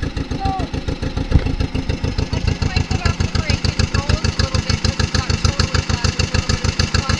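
A tractor engine runs steadily close by, its regular low chugging pulse holding an even rhythm throughout while a driver learns the clutch and brake, with faint voices underneath.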